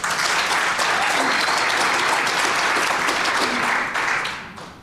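Loud, sustained applause from an audience at a mayor's housing levy bill signing, steady clapping for several seconds before tapering off near the end, no speech over it.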